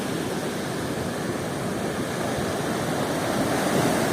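Rough, heavy surf of the western Black Sea pounding the shore, a continuous loud broadband roar of breaking waves that swells slightly toward the end, with no voices.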